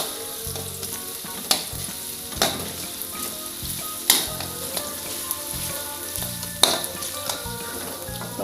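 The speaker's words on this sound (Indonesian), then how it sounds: "Aduk-aduk sampai matang dan harum kecoklatan ya." Onions and chicken liver sizzle steadily in a pan, with a spatula stirring and scraping in a few sharp clacks against the metal, close and continuous with no talk.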